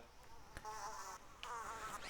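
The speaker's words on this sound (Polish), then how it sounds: "Że ktoś na to wpadł, żeby zrobić latanie na komarze" A mosquito buzzes in the PC game Rayman Legends, a steady, fairly loud whining drone that holds throughout with a couple of brief sharp accents, and no talking over it.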